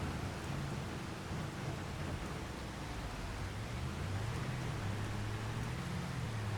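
Steady rain falling outdoors over farm fields in Ray County, Missouri, a dense even hiss throughout with a low rumble underneath, no voices.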